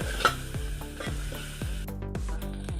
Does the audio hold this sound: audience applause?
no